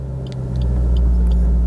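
A manual car's engine holds a deep, steady rumble that swells slightly as the throttle rises toward 2000 RPM for a hill start, close by, with a few faint clicks over it.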